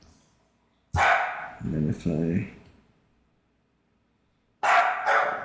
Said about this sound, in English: If you hear barking in the background, that's this dog.